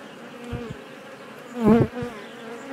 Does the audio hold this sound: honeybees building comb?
yes